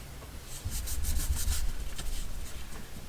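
Paper layers of a junk journal waterfall card being burnished smooth over fresh glue, a few close, soft rubbing strokes in quick succession.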